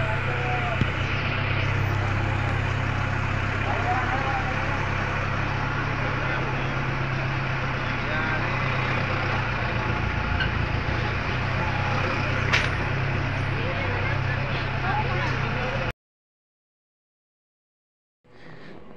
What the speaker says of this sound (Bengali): এবার দেখতে পাচ্ছেন আপনারা নিচ দিকে আমরা নামাচ্ছি গাড়িটা আস্তে আস্তে